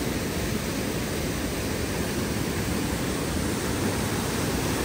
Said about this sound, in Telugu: ఎంత ఫోర్స్గా పడుతుందో చూడండి ఆ వాటర్